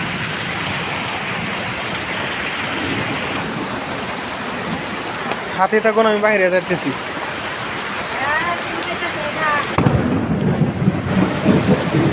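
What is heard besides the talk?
heavy hailstorm with thunder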